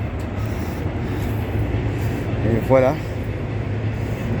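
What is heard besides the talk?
Montreal metro train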